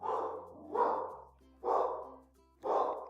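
A dog barks four times in a steady, evenly spaced rhythm, each bark full and fairly close, with a faint steady hum underneath.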